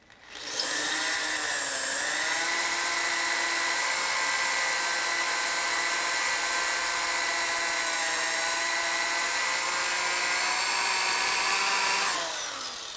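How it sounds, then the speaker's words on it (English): A power drill bores into a broken, rusted sprocket bolt on a Harley-Davidson Twin Cam rear wheel, a sustained high-pitched whine that spins up, holds steady and loud for about ten seconds, then winds down. "I'm drilling a hole"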